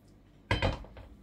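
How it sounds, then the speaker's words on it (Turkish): A metal pot clatters and rattles in a couple of quick bursts as it is shaken to stir a leek stew, then settles into quiet. "Şimdi bu aşamadan sonra artık tenceremi şöyle sallayarak karıştırıyorum."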